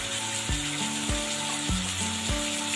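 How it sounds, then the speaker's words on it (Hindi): Red chili and turmeric spices frying in oil in a pot for beef nihari: a continuous loud, close sizzle with regular scraping strokes of a spoon roughly every half second as the masala is stirred. "अब मैं इसको भी 2-3 मिनट तक ना भूनूंगी मसालों को"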